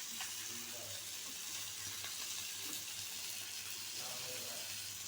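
Fish fries in a pan on a gas stove, giving a faint, continuous sizzling hiss with a few small crackles throughout.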